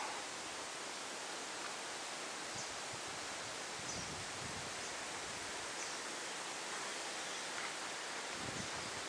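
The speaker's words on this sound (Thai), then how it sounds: "วันนี้ลมแรงก็เลยไม่มีหมอก" Strong wind blows at a mountain viewpoint at Khao Kho in Phetchabun, Thailand, a steady, broad roar of rushing air that fills the whole clip with no breaks.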